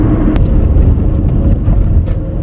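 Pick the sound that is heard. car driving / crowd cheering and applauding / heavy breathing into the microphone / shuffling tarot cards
car driving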